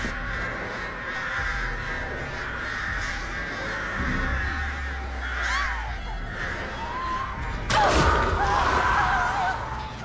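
Crows cawing as the Artist killer's birds in Dead by Daylight, repeated harsh caws over a busy game soundscape with a loud burst near the end.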